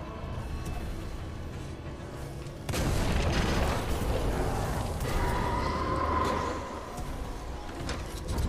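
Explosions rip through a facility in Titanfall 2, a sudden loud blast at about 2.7 seconds opening into sustained rumbling debris and roaring destruction over a steady ambient drone.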